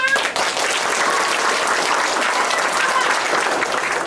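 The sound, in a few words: audience applause at street drama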